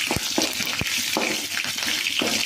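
Carrot, onion and green chillies sautéing in hot oil in a pan for rava upma, a steady close sizzle broken by several sharp scrapes and knocks of a stirring spoon.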